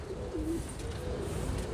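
Pigeons cooing as they are let out of a loft, a soft low coo rising briefly over a faint steady background hum, close by.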